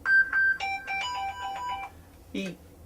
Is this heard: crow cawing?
no